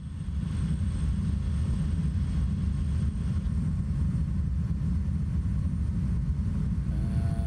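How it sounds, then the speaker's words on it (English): A propeller plane's engine drones steady and loud through the cockpit on a landing approach in Microsoft Flight Simulator 2024, a low continuous rumble with faint higher tones near the end. "And let's come in and land."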